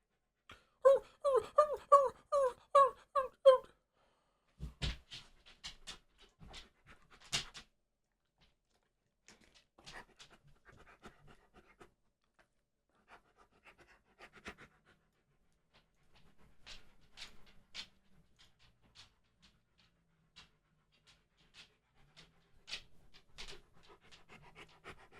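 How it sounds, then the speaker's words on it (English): A dog at the vet lets out a quick run of rhythmic, husky-style whines, then pants softly amid scattered shuffles and knocks nearby. "he decided that he wants to be a husky after all and started whining the whine of his"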